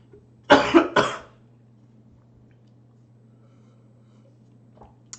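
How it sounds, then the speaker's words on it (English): Two loud, close coughs in quick succession from a person with a lingering cough, followed by a quiet room with a steady low hum. "So I still have a lingering cough"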